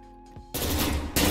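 Loud, close bursts of video game gunshots from a multiplayer shooter, a short sharp volley followed by a second burst, with no talking.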